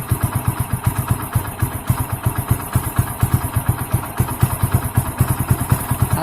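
A Hero HF Deluxe motorcycle engine idles close by, with regular rapid exhaust pulses and mechanical clatter while the air mixture screw is being adjusted, the beat holding steady and the engine running alone.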